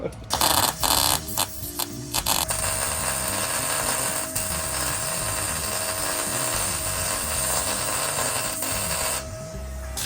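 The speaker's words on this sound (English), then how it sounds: "And my friend Ryan is welding" MIG-style welding of support tubes on a Jeep Cherokee and Rambler hybrid build, a steady buzzing hum running for several seconds after a few short bursts at the start, close and fairly loud with no talk.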